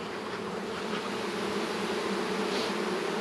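Honeybees hum steadily at an opened hive during a late March inspection, a dense, continuous buzz of many insects close by, even and unbroken with no talking.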